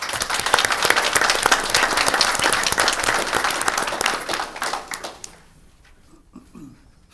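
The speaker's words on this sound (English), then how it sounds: "I would ask everyone present tonight to give Miss Hendricks and Goodwill a round of applause." An audience at an evening township meeting breaks into loud, sustained clapping that carries steadily for about five seconds, then thins out and fades to a few scattered claps and near silence.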